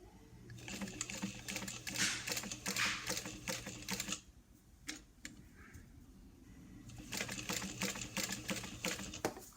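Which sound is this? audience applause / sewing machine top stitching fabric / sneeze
sewing machine top stitching fabric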